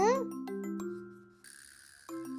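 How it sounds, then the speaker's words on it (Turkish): A doorbell chimes a clear ding-dong tone close by in a children's toy play scene, with a voice speaking briefly around it. "kim çalıyor kapıyı"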